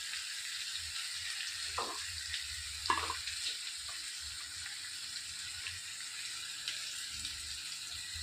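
Chopped vegetable pieces frying in a pan, a steady close hiss of sizzling oil with a few soft scrapes as they are stirred, and no talking.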